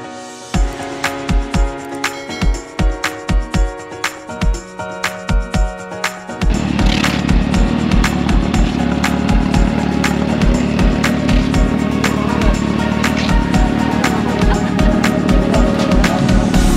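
A modified motorcycle with a changed cam, an ECU module and an aftermarket exhaust revs hard, loud and close: a series of sharp rhythmic blips, then a sustained roaring high-rev run.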